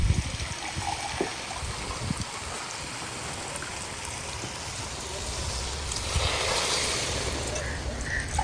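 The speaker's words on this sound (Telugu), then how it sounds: "దీంట్లో మనం కొంచెం వాటర్ పోసుకోవాలి." Water is poured into a cooking pot of vegetable curry, a soft, fairly quiet trickle and splash that swells briefly toward the end.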